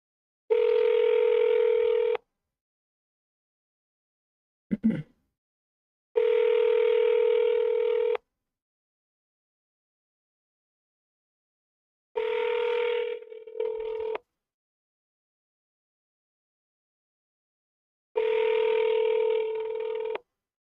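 Telephone tones sound through the handset while a number is dialed: steady two-second electronic tone bursts repeat with long silent gaps between them, and a brief click falls in one gap.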